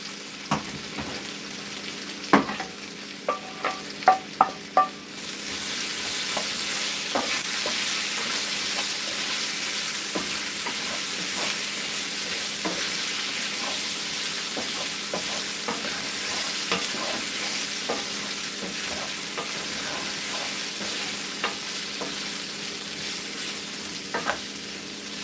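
Potatoes and tofu searing in a frying pan, with a steady, close sizzle and crackle that grows louder after a few seconds, and a few utensil clinks and stirring sounds near the start.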